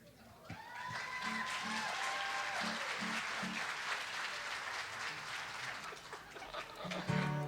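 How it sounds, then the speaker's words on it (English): Applause from a live theater audience after a song, sustained dense clapping across the whole stretch with a brief musical tone near the start, one child's clapping among the crowd. "I can hear her clapping after every song"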